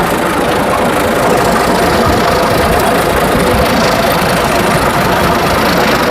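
A Hino J08C diesel truck engine idles loudly and close by, a constant rough rumble with a knocking vibration and no pauses.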